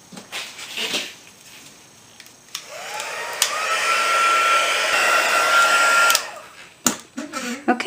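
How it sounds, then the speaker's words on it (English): A heat tool blows steadily for about three and a half seconds while heat-setting embossing powder on card, a loud, close whooshing hum with a rising pitch at switch-on, framed by brief handling clatter before and after. "now I'm going to heat set this."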